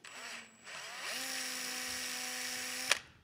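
A power drill with a 3/16 bit boring through plastic, whining steadily up to speed after a brief start, held close for about two seconds before a sharp click and stop, with no talking.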